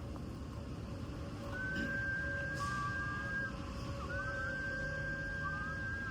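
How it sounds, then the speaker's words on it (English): A person tries to whistle, producing thin, wavering whistled tones that come and go in short stretches over a quiet indoor background. "Why can I not whistle?"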